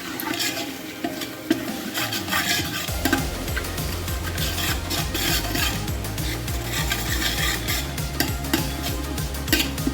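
Yogurt being stirred into fried onion and garlic for hilsa pulao, a loud, close, rhythmic scraping of a utensil in the pan over a steady sizzle, with no talking.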